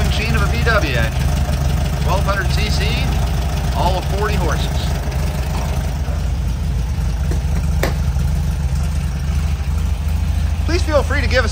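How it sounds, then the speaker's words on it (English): A 1965 Volkswagen Beetle's 1200cc, 40-horsepower engine idles with a steady low rumble, close and even, while a voice talks intermittently over it. "it's just a good running little sewing machine of a VW engine."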